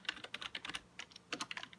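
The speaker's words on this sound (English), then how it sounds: "I'm typing with one hand, so it's a little difficult for me." Quick, uneven clicks of typing on a computer keyboard come in short bursts with brief pauses, close and fairly quiet, with no talking.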